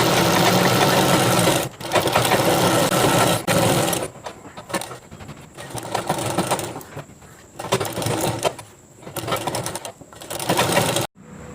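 A sewing machine stitches the bottom of a chudidhar in bursts of rapid mechanical whirring, close and loud, broken by short stops and restarts.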